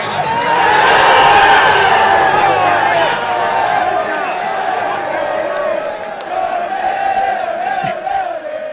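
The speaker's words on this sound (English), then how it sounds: "There was more than 500 people in the crowd, and by the time Mexico scored its second goal of the Cup, spirits were pretty high." A crowd of more than 500 people at a World Cup watch party erupts in loud, sustained cheering and yelling after a Mexico goal, staying excited throughout.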